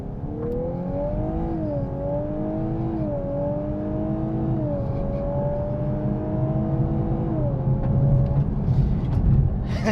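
A 2024 Lexus LC500h hybrid launches with launch control, its engine droning loudly and rising in pitch through several stepped gear changes, with a steady whir underneath for the full stretch.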